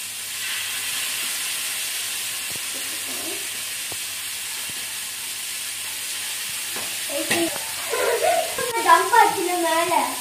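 Chicken frying in hot oil for sutta chicken, a steady hiss of sizzling that grows into louder crackling and popping near the end, with a voice talking over it.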